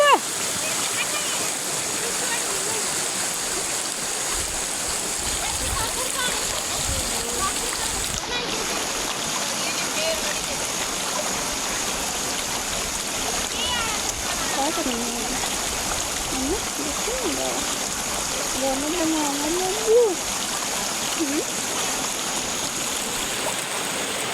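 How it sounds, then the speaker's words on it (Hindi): River water rushes and splashes steadily as someone wades across on foot, a constant broad wash close by with occasional louder splashes, and people talk over it. "मैंने ऐसे ही नदी क्रॉस की है जैसे बड़ी मम्मी कर रहे हैं"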